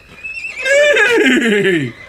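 A horse whinnies once in a rising-then-falling neigh lasting under two seconds, loud and close, alone without talk, as a sound effect in a children's farm-animal story read aloud.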